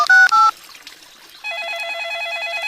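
A cartoon telephone is dialled with two short, loud tone beeps, followed after a pause by a steady warbling ring tone; no one speaks.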